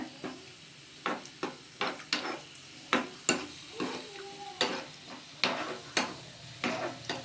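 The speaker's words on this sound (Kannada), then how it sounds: "ದ್ರಾಕ್ಷಿ ಹಾಕ್ಕೊಂಡು ಫ್ರೈ ಮಾಡ್ಕೊಳೋಣ" Raisins frying in a pan while being stirred for sweet pongal, a soft sizzle under a series of regular scraping and tapping strokes from the spoon against the pan, close and fairly quiet.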